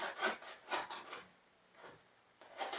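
Wood being scraped by hand in humid conditions, with four rasping strokes in a steady rhythm, each a short burst with pauses between, fairly close and moderately loud, alone without talk.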